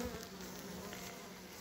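Honey bees buzz densely on packed hive frames of a strong overwintered colony, a faint, steady, close swarm hum with no one speaking.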